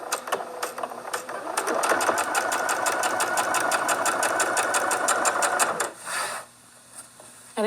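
Sewing machine stitching quilt squares in a fast, steady run of needle clicks for several seconds, then stopping briefly and starting a short burst again, close and clear with little talk.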